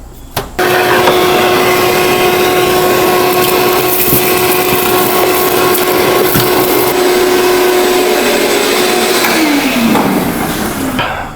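A shop vacuum sucks debris out of the carburetor of a 1963 Chrysler Newport, starting abruptly and holding a loud, steady whining roar with rattling grit for about ten seconds before it winds down.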